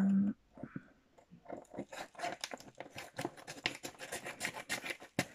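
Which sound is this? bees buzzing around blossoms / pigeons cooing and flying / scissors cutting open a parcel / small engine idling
scissors cutting open a parcel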